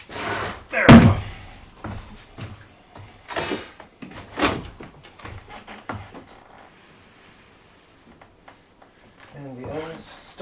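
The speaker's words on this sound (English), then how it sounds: "we've got a door. Slides pretty good." Barn door rolling along an overhead track indoors, a few thumps and a rolling slide, with someone talking over the sounds.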